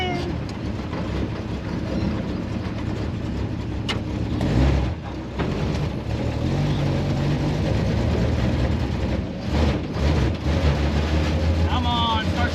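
The engine of a 1954 Chevy traditional hot rod runs on its first drive, a steady, close rumble that surges and eases as it picks up, with a person talking over the noise.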